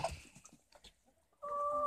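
Hens peck at potato peels, giving a few soft, scattered clucks and pecking sounds close by, followed by a louder, sustained clucking call at the end.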